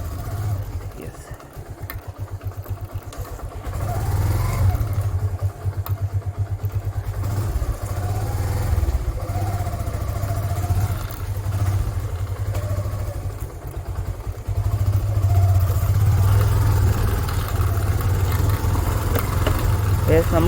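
A motorcycle engine keeps up a steady low drone on a road ride, picked up close by a phone mounted on the rider's helmet. A voice talks now and then over the engine noise.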